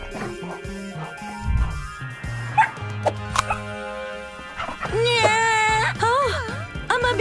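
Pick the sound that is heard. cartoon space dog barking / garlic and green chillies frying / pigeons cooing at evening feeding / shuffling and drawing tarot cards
cartoon space dog barking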